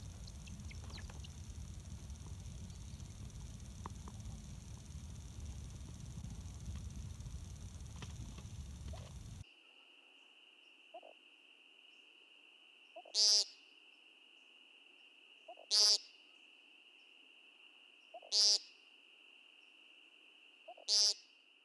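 Several sharp, buzzy nasal peent calls from a woodcock repeat every few seconds in a quiet night, each preceded by a soft, faint hiccup note.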